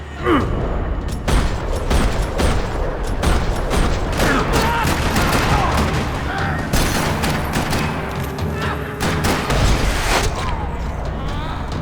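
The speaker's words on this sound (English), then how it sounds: "Another parking lot rattling with gunfire." Dense, rattling gunfire in a parking lot in Max Payne 3, with rapid bursts and sharp cracks, loud and continuous, some shots overlapping, with occasional voices mixed in.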